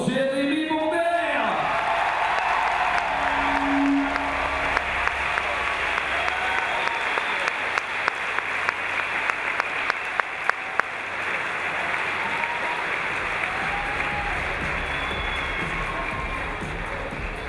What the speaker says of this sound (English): Applaudissements pour Jérémy Bonder.